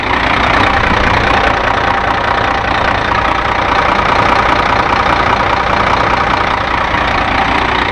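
A grain truck's diesel engine idles close by with the hood open, a loud, steady, rumbling drone with a rough clatter that holds constant throughout.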